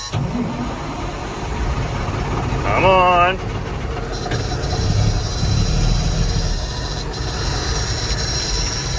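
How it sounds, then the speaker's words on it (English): A vehicle engine cranks with a short rising whine, then settles into a steady low idling rumble; a voice speaks briefly. "Engine start."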